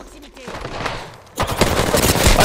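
Video game gunfire in a multiplayer match, quieter shots at first, then rapid automatic bursts erupt loud and close and keep going to the end, with a voice talking over them.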